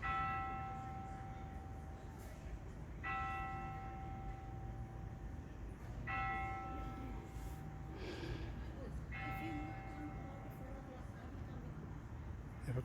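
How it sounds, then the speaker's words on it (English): Church bells chiming at midday near a park in Brenchley Gardens, Maidstone, with a tone struck roughly every three seconds and ringing on under steady outdoor traffic rumble, moderately distant. "Church bells are chiming."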